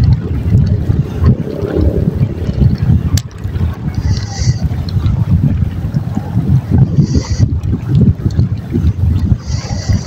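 Wind gusting over open sea aboard a small fishing boat out casting and jigging, a steady broadband rush with low rumble throughout, some faint voices in the background.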